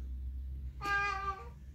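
A cat gives a single clear meow, a short harmonic cry of about three-quarters of a second, over a steady low indoor hum.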